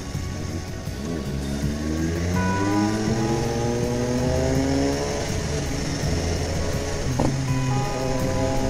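A BMW S1000R motorcycle accelerates hard on a night road, its engine note climbing in repeated rising sweeps through several gear changes, loud and close with a sharp rev spike near the end.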